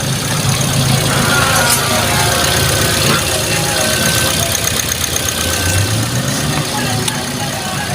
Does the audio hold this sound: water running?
no